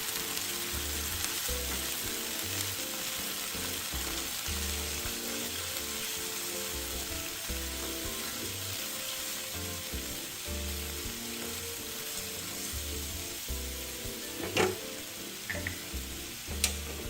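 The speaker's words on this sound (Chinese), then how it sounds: "接着再将鱼仔全部倒入，一起加热，拌炒均匀。" Onion and small fish stir-fry in a wok with a steady, close sizzle, broken by a few sharp clinks of the spatula toward the end.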